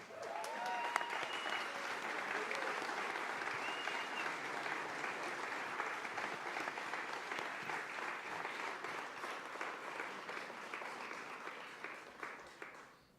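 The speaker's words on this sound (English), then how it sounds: "please stand and give a big round of applause for the 57th Governor of the great state of New York, Governor Kathy Hochul" Sustained audience applause welcoming New York Governor Kathy Hochul at a Western New York event, a dense steady wash of many clapping hands lasting throughout, moderately distant and tapering slightly at the end.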